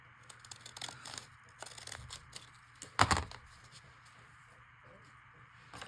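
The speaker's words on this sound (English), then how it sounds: "And I'm glad that these scissors will cut it." Scissors snip through paper for a scrappy button card notebook, with a sharp, louder cut near the middle among lighter crinkly snips and handling noise, recorded close up.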